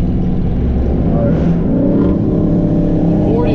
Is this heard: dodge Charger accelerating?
yes